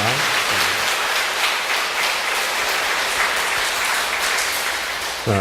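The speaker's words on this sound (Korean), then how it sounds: "다시 한번 감사의 박수 부탁드립니다" A church congregation applauding in thanks to their priest, a thick, continuous roar of many hands clapping at steady strength from start to finish, without speech.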